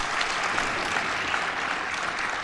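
A seminar audience claps loudly and steadily, the dense applause of a large hall continuing without break and without anyone speaking.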